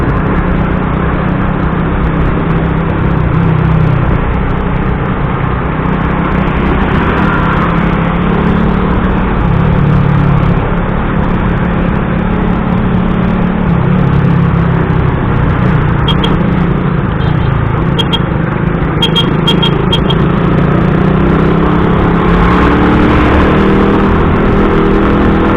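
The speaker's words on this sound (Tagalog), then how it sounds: "hili-hilirang mga truck" A line of trucks rolls past on a road in Montalban, Rizal, giving a loud, continuous engine rumble and tyre roar close by that swells and fades as each vehicle passes, with a few faint high clicks.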